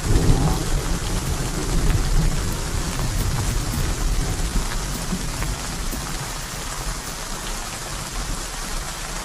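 Steady heavy rain pours across the open savanna with rumbling thunder beneath, a dense continuous wash of drops on the ground throughout, loud and close with no voices.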